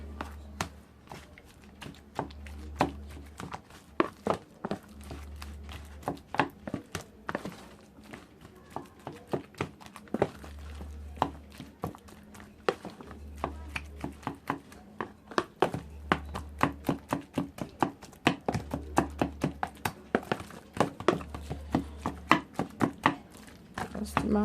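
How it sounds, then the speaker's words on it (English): Boiled potatoes mashed together with egg by hand, a steady run of soft, repeated thumps and squelches pressing into a bowl, close and fairly loud, continuing without pause. "continue mashing"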